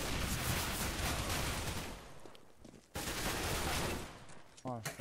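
Rapid bursts of gunfire in the video game CS:GO, a dense rattling fusillade that pauses briefly and resumes, ending with a short electronic tone.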